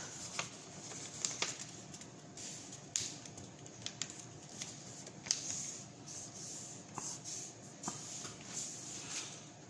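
A paper sign is folded by hand, giving faint, sparse crinkles and rubbing rustles with a few sharper creases scattered throughout.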